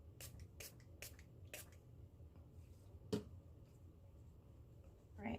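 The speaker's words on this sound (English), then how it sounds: "Let me spray it with alcohol." Rubbing alcohol is spritzed from a spray bottle onto a freshly poured layer of goat milk and coconut oil melt-and-pour soap: several quick, faint hissing puffs in a row, then a few soft clicks and taps.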